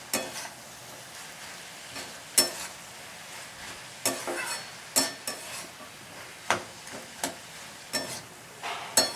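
Pumpkin curry stirred in a hot pan, a spoon scraping and clinking against the metal at irregular intervals over a steady, soft sizzle of frying spices, close and with no talking.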